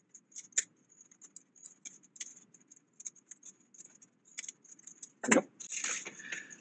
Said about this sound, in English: I'm just going to trim these ends off with my scissors.